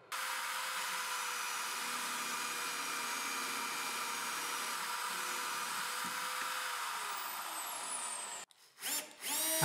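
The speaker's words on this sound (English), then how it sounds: "I work out their position and drill a hole 1 millimeter deeper than the magnet." A power drill whines steadily for several seconds drilling holes in metal for magnets on bench vise jaw protectors, close and loud, then stops abruptly, followed by brief clattering.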